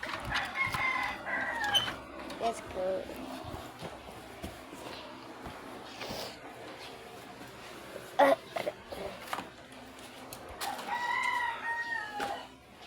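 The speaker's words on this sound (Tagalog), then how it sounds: "Ay, tilaok na mga manok." Several roosters crow repeatedly in Sariaya, Philippines, some near and some farther off, amid clucking hens, footsteps and occasional brief talk.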